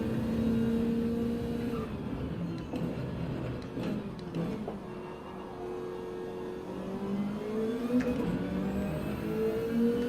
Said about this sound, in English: That Ford GT is fast in a straight line, look at it pull.